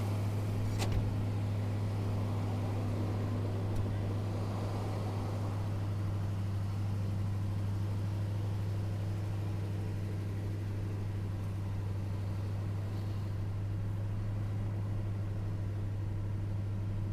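A Mercedes W126 500 SE with its muffler deleted idles high after a cold start, a steady, deep engine drone with a strong low hum and faint upper rumble, alone with no talk.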